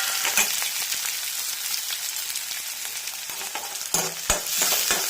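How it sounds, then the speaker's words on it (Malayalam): Green chilies and garlic sautéing in hot oil in a home kitchen, a continuous close sizzle broken by sharp clicks and scrapes of a spoon stirring the pan. "പച്ചമുളക് വെളുത്തുള്ളി എല്ലാം ഒന്ന് വഴറ്റിയെടുത്ത്"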